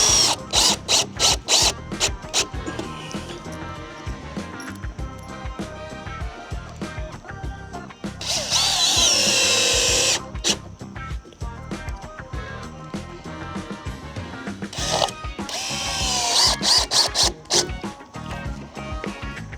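A power drill with a drill bit pre-drills holes through wood blocks for a ground-mounted solar panel frame, with repeated close whirring bursts and rattling, clattering handling noises between them and two longer, louder drilling runs.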